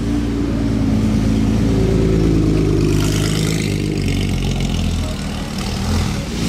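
A car with a big exhaust rumbles and revs nearby on a street in Monaco, a steady loud deep engine drone that swells and eases without pause, with no talking.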